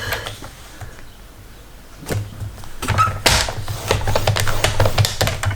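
Paper being cut for a seaside photo album page, heard as scraping and sliding strokes of a trimmer with several sharp clacks and a low steady hum beneath, close and fairly loud.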